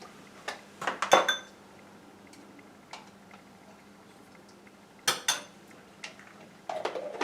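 Lemon juice, mustard, salt and sugar are stirred in a dish, heard as scattered clinks and taps of a utensil against the dish, a few sharp bursts with quiet gaps between them.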